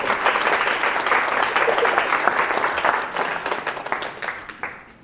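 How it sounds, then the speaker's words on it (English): An audience at a public art talk claps steadily for several seconds, a dense patter of many hands that thins and fades toward the end. "go ahead, clap."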